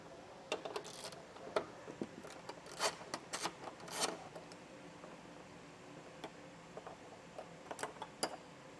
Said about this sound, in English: pull back that cover, and remove that 8mm bolt